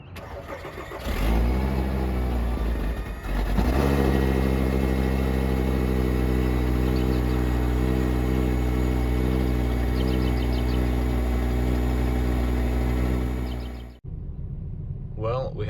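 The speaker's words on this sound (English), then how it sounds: "about to take it for a drive this morning to get all the emissions monitors to set" A Volkswagen Beetle engine cranks, catches and settles into a loud, steady mid-pitched running hum, with a few ticking sounds along the way, before cutting off abruptly near the end; a voice talks over part of it.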